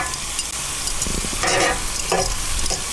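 Fish sizzles loudly in a hot frying pan as it is flipped over, a steady close crackle of frying with brief scraping stirs and surges of hiss.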